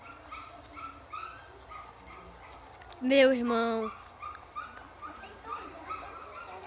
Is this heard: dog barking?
yes